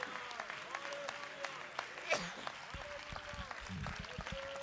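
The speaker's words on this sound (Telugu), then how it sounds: "మీరంతా గంభీరముగా నోటితో స్తోత్రములు చెల్లిస్తూ చప్పట్లు కొట్టగలరా?" A church congregation claps steadily for several seconds, a dense patter of hands with voices calling out praise mixed in and one sharper burst midway.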